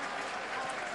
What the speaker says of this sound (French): Et les applaudissements du capitaine Julien Pierre.